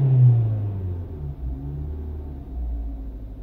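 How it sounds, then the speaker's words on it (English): A Kia car engine drops from a hard rev after being floored, its low rumble easing down and settling into a steady idle, close and loud with no talk. "Okay, that was after flooring it and letting go. And we're at normal idle."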